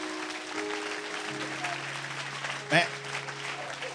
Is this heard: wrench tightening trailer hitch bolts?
no